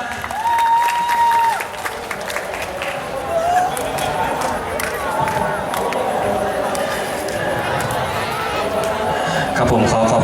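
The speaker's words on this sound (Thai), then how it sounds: "ขอเสียงปรบมือดังๆให้กับราจิสติงครับ" Crowd applause at an outdoor b-boy award ceremony during the 2012 Nakhon Phanom illuminated boat festival, moderate clapping and cheering mixed with chatter and a PA voice talking over it.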